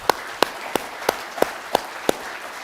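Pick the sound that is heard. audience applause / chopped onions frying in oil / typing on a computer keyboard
audience applause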